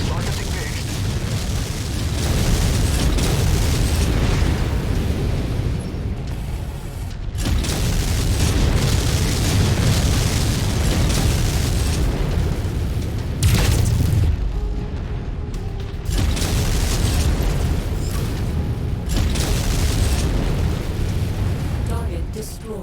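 Rockets fire and explode in MechWarrior 5: Mercenaries, heavy rumbling booms rolling on almost without pause, with brief drops between volleys and voices talking over the battle.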